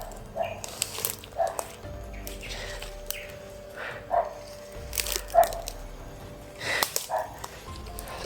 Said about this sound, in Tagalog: May ingay. Aso. Tahol ng aso.